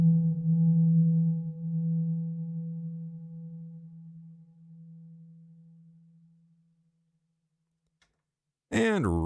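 Through the second reverb algorithm of a Novation Peak synth, a lone sine pluck rings with a slight dip and wavering sustain, then tapers off softly over roughly seven seconds; after a short silence someone begins talking.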